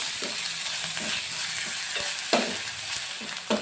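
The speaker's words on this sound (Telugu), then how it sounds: "ఈ ఉల్లిపాయ వేగిపోతే సరిపోతుంది" Onion fries in a pan with ginger garlic paste, a close, steady sizzle broken by a few spatula scrapes and soft knocks as it is stirred.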